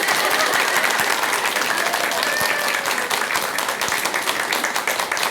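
A studio audience at a Buddhist TV talk program breaks into sustained applause, a dense, even wash of many hands clapping that carries on throughout without a break.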